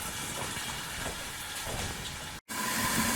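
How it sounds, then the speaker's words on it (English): Chicken breasts cook in a covered pan, giving a dense, steady hiss and sizzle of steam and searing that runs unbroken except for one brief drop near the end. "we're doing a mix of steaming and searing"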